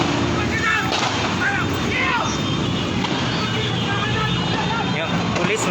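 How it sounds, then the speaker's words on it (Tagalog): Gunfire crackles through a police shootout in the Philippines, with dense overlapping bursts and excited voices shouting nearby over a loud, continuous backdrop of noise. "Grabing putukan dito."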